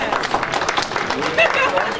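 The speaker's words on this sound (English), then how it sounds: "Give a round of applause" An auction audience applauds a winning bid at a benefit auction, a short burst of mixed clapping with voices chattering underneath.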